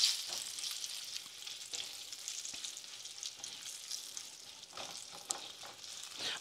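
Cured meat frying in a pan for a traditional carbonara gives a steady, close crackling sizzle with occasional sharper pops, running alone without voices.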